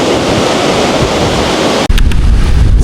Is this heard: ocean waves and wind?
yes